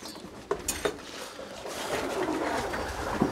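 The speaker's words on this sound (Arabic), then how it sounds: "ها الحميمات دابا كياكلوا" Pigeons coo softly while feeding, with a few sharp taps and clatters early on and a steady low rustle throughout, heard close with no talk.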